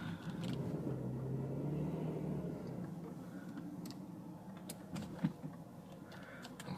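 A Renault Vel Satis 3.5 V6 eases slowly into a small, tight garage, its engine a low, quiet rumble with scattered faint ticks and clicks that fades slightly as the car creeps forward.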